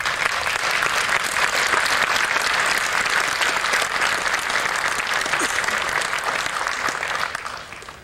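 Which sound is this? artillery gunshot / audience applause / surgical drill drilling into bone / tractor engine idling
audience applause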